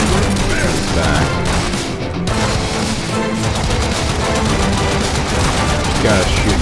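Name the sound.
gunfire in Warframe video game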